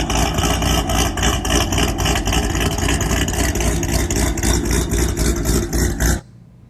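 A cammed car engine idles with a loud, choppy, lumpy lope, pulsing in an uneven rhythm close to the microphone before cutting off abruptly near the end.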